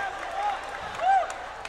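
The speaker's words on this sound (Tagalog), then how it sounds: "that made the crowd become noisy" Basketball crowd at an Ako Bicol Cup 2022 game between Pio Duran and Ligao, a steady wash of cheering and applause that swells briefly near the end, with a commentator talking over it.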